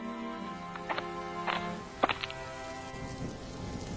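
Cartoon rain gives a steady soft hiss under sustained musical tones, with a few sharper drip-like taps scattered through it.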